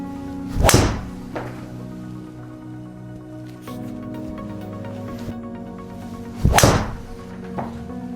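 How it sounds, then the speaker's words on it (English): Golf shots struck with a mini driver, heard as two sharp, loud impacts about six seconds apart, each followed by a fainter after-sound, with a quiet background between. "we will see this as we hit more golf shots"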